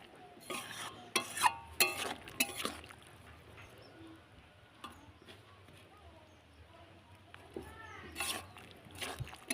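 Potatoes stirred in a pan with cauliflower stems, a cluster of sharp scraping clatters early on and again near the end, close and moderately loud, with quiet stretches between.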